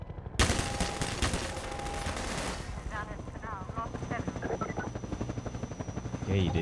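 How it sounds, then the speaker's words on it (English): Helicopter in the video game Half-Life 2, a loud rhythmic rotor thump mixed with bursts of rapid machine-gun fire, close and persistent, with people talking over it. "Hi, helicopter."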